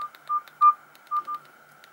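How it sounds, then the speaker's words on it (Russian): Keypad tones sound from a Nokia 220 mobile phone: five short, clear electronic beeps at an uneven rhythm, loud and close with no voices. "Сигнал клавиш."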